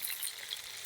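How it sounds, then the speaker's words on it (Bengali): Marinated koi fish pieces fry in hot oil, giving a bright, steady sizzle with crackling spits, close and fairly loud, and no talking. "এখন ম্যারিনেট করা মাছগুলো আমি দিয়ে দিচ্ছি এক এক করে।"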